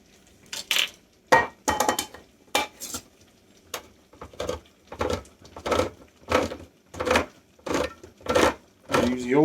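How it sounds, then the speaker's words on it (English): A manual can opener working around a can of Hunt's diced tomatoes, producing a steady series of about a dozen sharp metallic clicks and crunches at an even rhythm, close and fairly loud. "Use the old can opener today. Electric went on the fritz."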